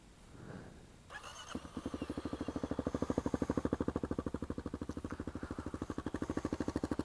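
Kawasaki KLX300 dirt bike with an upgraded exhaust starts up after a brief bump and then idles in a steady, throbbing pulse, close by and loud, with no talking.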